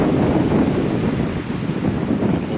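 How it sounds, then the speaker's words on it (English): Wind blows outdoors in the Ontario spring woods during a bear hunt, a loud, rough rumbling rush buffeting the microphone and rising and falling slightly, with no one speaking. "hope this wind dies down"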